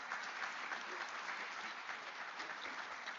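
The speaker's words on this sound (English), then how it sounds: "How about you joining me and giving them applause for their time and thoughts?" Audience applause for the panelists at the 2024 Niagara Economic Summit, a steady, dense wash of many hands clapping throughout, moderately loud and even, with no talk over it.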